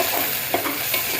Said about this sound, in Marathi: आता हे सगळं चांगलं परतून घेते.